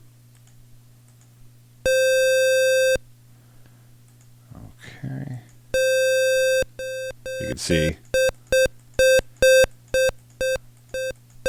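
An NES-style square-wave tone made in NESmaker at half volume with a round duty cycle sounds first as two long sustained beeps and then as a rapid run of short repeated blips. Someone speaks briefly between the tones.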